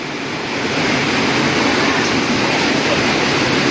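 A river stream in the Bogor forest on the trek to Curug Cisadane rushes over rocks in a steady, loud, close broadband roar that never lets up, with no talking.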